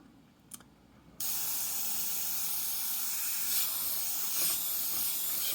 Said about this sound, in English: Spray that on top of the hairs